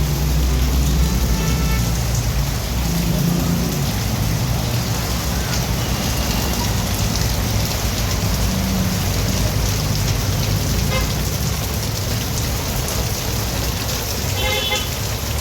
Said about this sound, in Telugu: వర్షం అయితే ఫుల్ వర్షం స్టార్ట్ అయింది మా